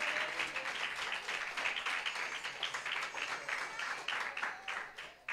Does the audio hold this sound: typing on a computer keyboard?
no